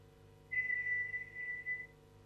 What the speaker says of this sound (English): So it will show you how good you are whistling.